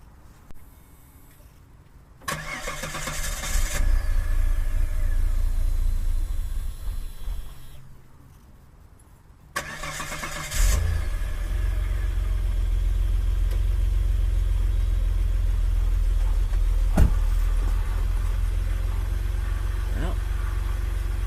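A Vauxhall Vectra engine cranks and catches, runs, cuts out after a few seconds, then restarts and settles into a steady, slightly rough idle up close. The fuel filter has just been replaced.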